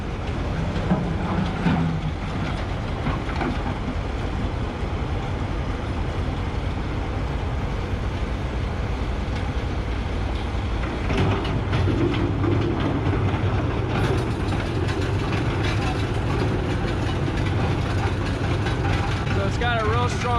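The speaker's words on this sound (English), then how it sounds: "They just delivered this rock crusher." A remote-controlled rock crusher grinds up concrete, a dense, steady mechanical roar with rattling and clanking that holds loud and unbroken from start to finish.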